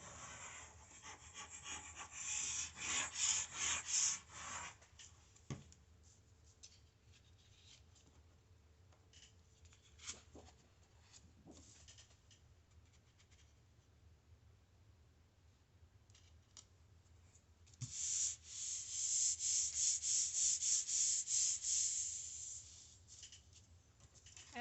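A paper strip is glued down and rubbed onto a scrapbook page layout, making two bursts of dry, scratchy rubbing, one near the start and a longer one near the end, with quiet handling in between.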